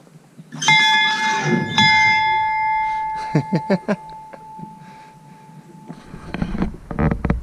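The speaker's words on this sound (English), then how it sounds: "You want me to ring the bell? You gonna ring the bell?" A bell rings out clearly twice with long sustained tones as it is pulled hard, followed by quieter clanks and a voice chattering nearby.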